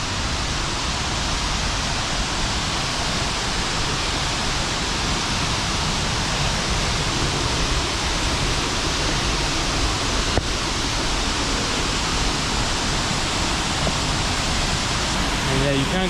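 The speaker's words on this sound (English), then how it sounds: "That's a big one, big waterfall." Big waterfall roaring in a steady, dense wash of white water, loud and close, continuous with no breaks.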